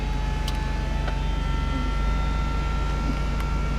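A 1998 Mercedes-Benz SLK230's retractable hardtop mechanism runs as the trunk lifts. It makes a steady, loud hydraulic motor drone with a faint whine riding on top, continuous throughout with no talking.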